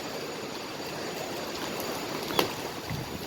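Steady broadband rush of rainwater runoff after heavy rain in Saudi Arabia, streaming nearby, continuous and even with one brief knock partway through.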